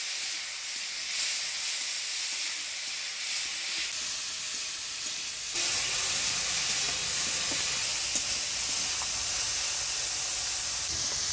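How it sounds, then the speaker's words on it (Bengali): Small fresh river prawns fry in hot oil in a pan, giving a steady loud sizzle and hiss that grows denser partway through, with no voices. "চিংড়ি মাছগুলো ভাজে নিলাম"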